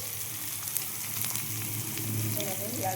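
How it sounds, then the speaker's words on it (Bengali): Steamed potatoes frying in refined oil in a wok, a steady close sizzle with soft crackles and occasional stirring, continuous throughout. "এইটাকে আমি লাল লাল করে ভেজে নেব"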